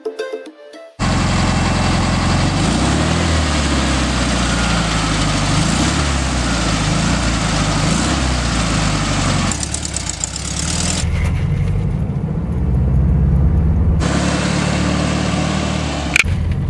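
Engine of a 1972 Volkswagen Super Beetle pulling away from a gas station, a loud steady air-cooled rumble with shifting low tones as it accelerates, close and continuous with no talk.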